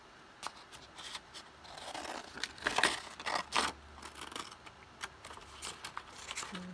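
Scissors snip through soft fabric or vinyl while a window pocket is being made, with rustling and crinkling between cuts. The irregular, close, quiet snips and handling noises come in short bursts.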